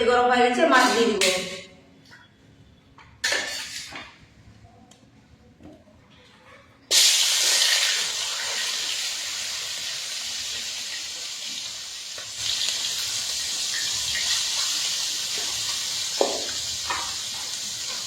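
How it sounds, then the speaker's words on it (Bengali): Small puti fish hit hot oil in a kadai with a sudden loud hiss that settles into steady, bright sizzling, following a stretch where a person talks. "তেল গরম হয়ে গেছে, মাছ দিয়ে দিব।"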